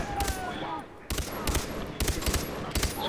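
Bursts of gunfire in the Far Cry 3 video game, rapid clustered shots recurring every half second or so, loud and close, with game music and ambience running underneath.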